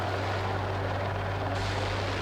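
Attack helicopters flying in the video game Battlefield 6, a loud, steady rotor drone with a strong low hum that fills the whole two seconds without pause.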